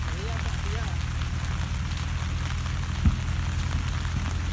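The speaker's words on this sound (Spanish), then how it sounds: "Ya la lluvia nos llegó." Steady rain falling in an apple orchard in Washington during a Gala apple harvest, a constant hiss with a low rumble underneath and one brief knock partway through.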